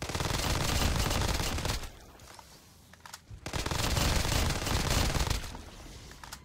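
A modded gun in the Black Ops 3 Zombies game, on the Origins map, fires in rapid bursts of loud gunfire, with two long sustained volleys separated by a brief quieter pause.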